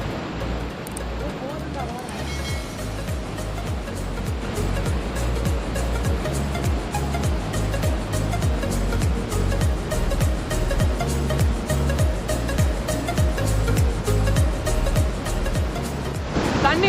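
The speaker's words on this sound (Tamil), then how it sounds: "பார்த்தாலே தெரியும், ஃபால்ஸ் மாதிரி விழுந்துட்டு இருக்கும். செம்ம ஸ்பீடாக இருக்குது தண்ணி, பாருங்க." Fast water rushes over Athuparai falls near Pollachi in a loud, continuous roar close by, with a voice heard faintly at times under the flow.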